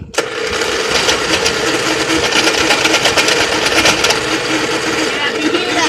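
A lawn mower engine with its piston disconnected runs rough and loud, a steady mechanical rattle with sharp cracking knocks that carries on for the whole stretch.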